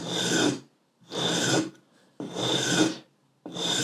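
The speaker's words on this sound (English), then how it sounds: "Why not use that very same sanding block to do the exact same radius on your nut?" Four slow, even rasping strokes of a radius sanding block shaping a guitar nut, each about half a second long with short pauses between, close and steady with no talking.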